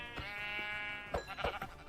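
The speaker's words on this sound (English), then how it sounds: "I noticed that there were some sheep up on the mountain." A sheep bleating in modded Minecraft, one sustained wavering bleat followed by short choppy sounds, faint and isolated.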